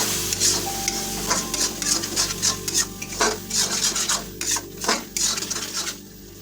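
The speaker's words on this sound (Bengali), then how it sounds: "এখন এটাকে আমরা প্রায় মিনিট 5 ধরে একবার লো ফ্লেমে কষিয়ে" Ginger garlic paste sautéing in a wok over a low flame for chicken ghugni, a soft steady sizzle with repeated scraping and stirring strokes of a spatula, close and continuous, no talking.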